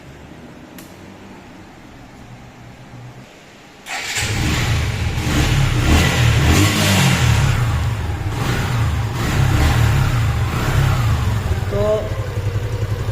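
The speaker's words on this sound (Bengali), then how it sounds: "ইঞ্জিনের ফ্রি ইঞ্জিনের সাউন্ডটা শুনুন, ফ্রি সাইলেন্সারের সাউন্ড।" A 2022 Suzuki Gixxer 155 motorcycle fitted with a free-flow silencer fires up after a quiet start, then runs loud and close with a rough, throbbing note that swells and eases, while a voice talks over it.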